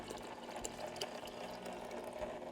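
An ice cream maker churns watermelon mint sorbet with a continuous mechanical whir and faint rhythmic rattling, steady and fairly quiet, with no talking.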